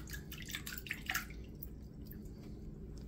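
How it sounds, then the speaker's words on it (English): Cured bacon is rinsed in cold water, giving soft close dripping and splashing for a moment, then a quieter wet trickle, with no voices. "we're just going to get it in this cold water. We're going to get it rinsed off."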